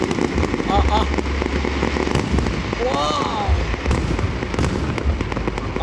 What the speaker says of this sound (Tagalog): Grabe, fireworks na to mga kalibot sir.